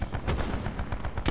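Rapid sniper rifle fire in a video game, a continuous string of loud, close shots with a heavy low thump, running straight through the brief moment without gaps.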